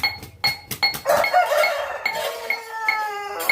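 A rooster crows close by: a loud, drawn-out call follows a few short clucks and clinks, with no talking.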